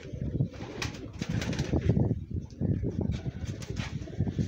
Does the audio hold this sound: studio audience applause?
no